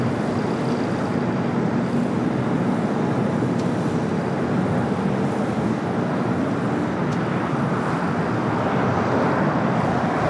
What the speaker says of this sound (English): China Eastern, the 777 at 300ER, the flight heading back to Shanghai, rolling down at 24 left